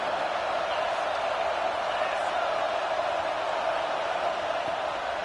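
Steady, dense stadium crowd roar from the College Football 26 video game, a loud continuous wash of massed voices that holds evenly throughout without clear peaks.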